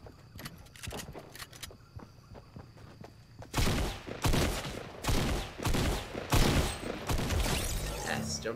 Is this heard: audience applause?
no